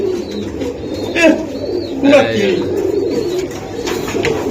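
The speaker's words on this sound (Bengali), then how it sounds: "এই যে দেন কবুতরটা মাশাআল্লাহ, অনেক সুন্দর" Racing pigeons cooing nearby in a loft, with a couple of soft, throaty coos over a steady background murmur while someone talks throughout.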